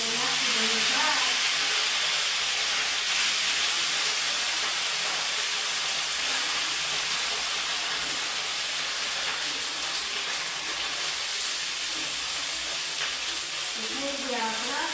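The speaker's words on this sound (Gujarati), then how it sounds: "તો ઘી ગરમ થઈ ગયું છે ને હવે નાખી દઈએ ભાત." Cooked rice fried in hot ghee for dal fry jeera rice, a steady broadband sizzle and hiss running loud and continuous throughout, with faint voices now and then beneath it.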